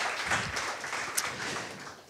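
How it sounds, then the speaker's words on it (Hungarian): A theatre audience applauds a woman on stage, a continuous dense clatter of clapping heard alone and fairly distant. "egy nagy tapsot szeretnék a hölgynek"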